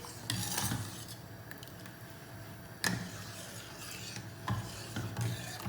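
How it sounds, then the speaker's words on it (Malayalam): Semolina, sugar and milk being stirred in a pot with a utensil, giving repeated scraping, rasping strokes with a few sharper knocks against the metal, fairly quiet and close, with no talking. "നന്നായിട്ട് മിക്സ് ചെയ്യാം."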